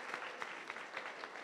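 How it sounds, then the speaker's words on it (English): A dense, steady patter of many hands clapping fills a brief moment at a school award ceremony, with no voices standing out. "Let's clap for them, people."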